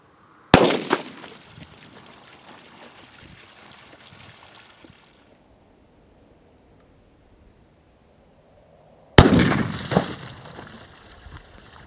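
Two sharp, loud gunshots from a Ruger 57 pistol firing 5.7x28 40-grain Hornady VMAX rounds at water jugs, about nine seconds apart, each followed by a spreading splash and ringing decay, with quiet trickling between.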